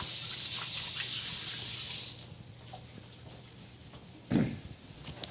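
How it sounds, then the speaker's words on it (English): Hands rinsed under a running kitchen tap while making gluten-free cheese and garlic bagels: a steady, close water hiss for about two seconds that then cuts off, followed by quiet room noise and one short knock. "Okay, rinse my hands."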